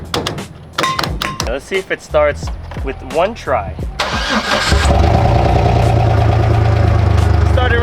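A truck engine cranks and catches after a few seconds of talk, then settles into a loud, steady idle that continues to the end.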